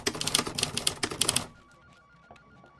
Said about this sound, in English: Phones ringing, keyboards typing